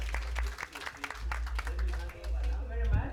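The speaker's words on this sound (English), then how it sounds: "A big round of applause to the speakers" Audience applause for speakers at a live-streamed session, scattered clapping over a low hum, with a person talking above it throughout.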